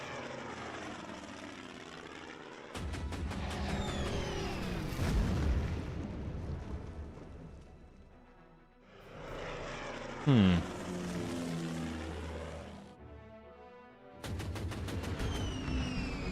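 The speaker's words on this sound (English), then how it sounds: "Goddamn Japanese bombers" Japanese bombers attack in the World War II strategy game Order of Battle: Burma Road, with droning aircraft engines, bursts of gunfire and explosions in loud, uneven waves, broken by short quiet gaps.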